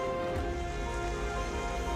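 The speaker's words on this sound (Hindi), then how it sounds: "मुंबई में सोमवार को झमाझम हुई बारिश ने यहाँ भी एक बार फिर मौसम को सुहाना बना दिया है" Heavy monsoon downpour in Mumbai, a steady dense hiss of rain on surfaces with a low continuous rumble beneath, constant and fairly quiet throughout, no voices.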